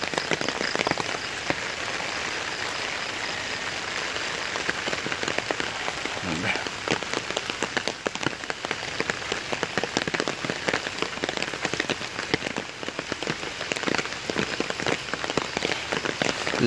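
Heavy rain pounding steadily on a goat farm, a dense continuous hiss with sharp drop impacts scattered throughout, close and unbroken.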